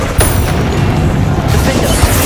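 A Confringo blasting spell goes off in Hogwarts Legacy, a loud booming burst with a sharp crack at its onset followed by a sustained rumbling wash over busy game sound, with a voice heard faintly beneath.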